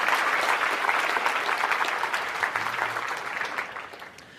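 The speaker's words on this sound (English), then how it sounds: "Let's give him a round of applause." Steady applause from an audience welcoming a young entrepreneur on stage, dense and sustained clapping that gradually thins and fades toward the end.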